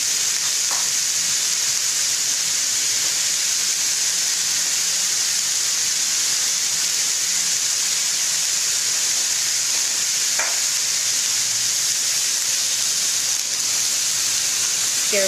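Ginger chicken and vegetables are stir-fried in a hot pan, giving a loud, continuous, close-up sizzle and hiss. Occasional faint stirring clinks sound throughout.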